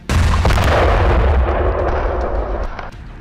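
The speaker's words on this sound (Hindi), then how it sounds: "देखिए कैसे रॉकेट से एक टैंक को उड़ा दिया" A rocket strikes an Israeli tank in Gaza: a loud, close blast with deep booming low end and a crackling burst that rolls on and slowly decays over about three seconds.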